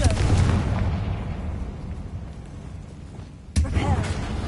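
Confringo fire spell explosions in the video game Hogwarts Legacy: a loud blast right at the start rumbles and fades, then a second sharp blast bursts out near the end.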